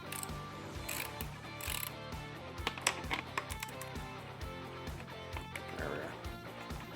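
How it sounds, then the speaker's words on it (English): A hand ratchet tightens bolts while assembling a Roll Road Shark 2.0, its pawl clicking in rapid, regular bursts at close range, with some speech mixed in. "I'm going to use my own ratchet to tighten these down"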